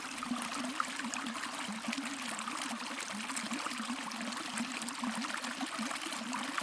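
River water flowing steadily near Byers Lake, a constant close rushing and trickling that stays even throughout, with no voices.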